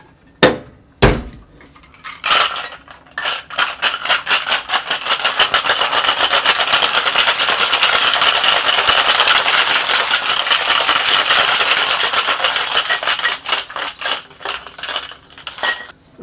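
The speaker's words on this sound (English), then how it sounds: "Let's get some ice and let's give this bad boy a shake." Ice rattling hard inside a cocktail shaker while mixing an Earl Grey tea and mezcal cocktail. A few sharp knocks open it, then a loud, continuous rapid shaking builds and slowly tapers off near the end.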